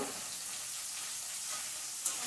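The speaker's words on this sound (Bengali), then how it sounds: "এবারে কষে নেবো, আলুটা কষে নেবো ভালো করে।" Potatoes with salt and turmeric sauté in a pan, giving a steady, soft hiss of frying, faint and continuous with one small clink near the end.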